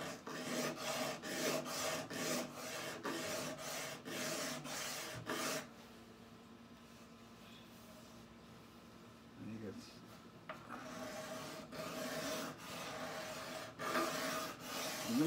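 A Harmony Monterey archtop guitar's wooden neck is shaved down by hand, with rhythmic rasping strokes in quick repeated bursts, a quieter pause, then more scraping, close and clear, with someone talking at times.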